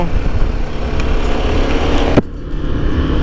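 Dense roar of road traffic rushing past during a motorcycle ride on a KTM 1290, loud and steady broadband wash that suddenly drops and thins near the end.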